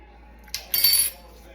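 Spoon clinking and scraping against a pot while stirring peach freezer jam, with a brief tap followed by a short burst of metallic scraping, close and fairly quiet.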